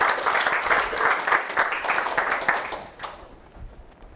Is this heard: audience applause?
yes